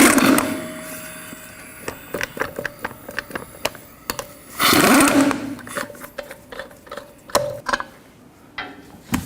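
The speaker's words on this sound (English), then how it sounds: "Use a 22mm socket, take the lug nuts off." A 22mm socket loosens the lug nuts on a 2009-17 Chevy Traverse wheel, with clustered mechanical clicks and ratcheting bursts near the microphone, a longer grinding burst midway, then scattered sharp taps.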